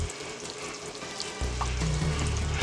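Butter melting in a pan beside a pot of water for fettuccine gives a continuous close crackling sizzle, steady and bright, with a low rumble from the stovetop underneath and no talking.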